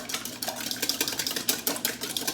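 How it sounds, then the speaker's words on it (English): Eggs being whisked in a bowl for Yorkshire pudding batter, a quick run of light, rhythmic clicking strokes, close and fairly soft. "And I'm gonna give these a little whisk."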